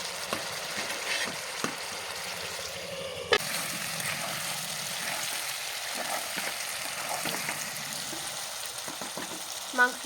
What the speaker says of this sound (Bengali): এখন শুধু নাড়াচাড়া করে আর একবার ঢেকে দিতে হবে